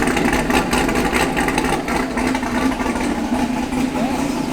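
A 2011 fifth-generation Chevrolet Camaro SS with headers and an aftermarket intake idles loudly and up close, its low, lumpy engine note running steadily throughout.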